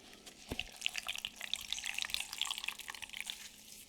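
Water splashes and trickles steadily, like liquid being poured or running into a sink, close by and fairly quiet, with no voices.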